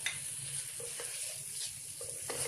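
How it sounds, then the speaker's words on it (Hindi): Cumin, black pepper and ground spices roast in a pan for a nargisi kofta curry, giving a quiet, continuous sizzle broken by soft scraping stirs, with no talk. "अब मैं 5 से 7 मिनट इसकी भुनाई करती हूँ।"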